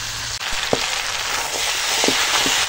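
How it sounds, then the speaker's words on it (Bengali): Goat head meat sautéing in a ground spice paste in a pot over a wood fire on a clay stove, a steady close sizzle with a few soft scrapes of stirring. "কাঠের জালে ছিলে বাটা মশলায় খাসির মাথা কষিয়ে রান্না করছি"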